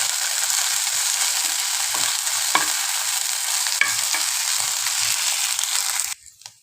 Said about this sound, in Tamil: பச்சை ஸ்மெல் போகிற வரைக்கும் வதக்கிக்கலாம்.